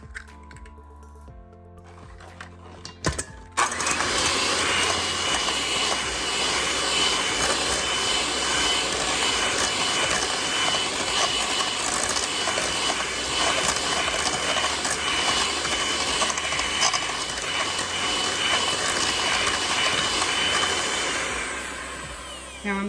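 An electric mixer beats two eggs into coffee cake batter for an apple streusel coffee cake, a loud steady whirring drone starting after a few seconds and running continuously to the end without talk.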